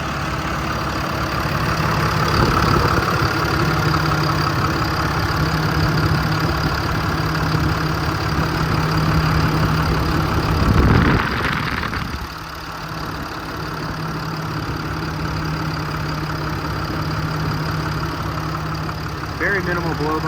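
A Cummins diesel engine in a 2015 Ram 5500 service truck with 210k miles idles steadily and close by, a constant low rumble with a brief louder surge midway before settling back.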